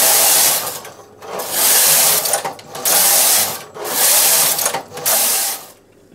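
A knitting machine carriage is pushed back and forth across a row in repeated loud mechanical sweeps, each a whirring, ratcheting rush separated by brief pauses.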